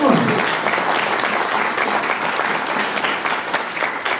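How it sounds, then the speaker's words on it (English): Audience at a wrestling comedy show breaking into full, dense applause that stays loud and even throughout, with faint crowd voices mixed in. "you can applaud for Reggie Parks"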